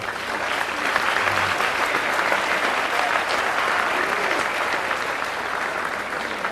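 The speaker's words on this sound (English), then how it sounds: "Let's give a round of applause for Rufino." Applause fills an indoor hall at a polo hall of fame induction ceremony, a dense, even wash of many hands clapping at once that holds steady throughout, loud and unbroken, with no voices on top.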